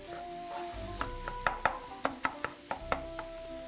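Rutabaga, celery, carrots and turnips cook together in a pot over an open fire in a historic kitchen, making a faint, soft sizzle punctuated by a run of light, quick taps and clinks, with no voices.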